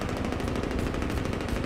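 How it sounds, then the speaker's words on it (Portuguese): Helicopter-mounted machine gun firing in Crysis 2: a dense, continuous stream of rapid gunshots, loud and unbroken throughout, with no voices. "É o helicóptero que tá dando esses disparos todos."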